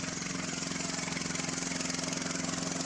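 A lift-kitted lawn mower engine runs steadily through mud, a loud, droning pulse with a fast, even rhythm that holds constant throughout.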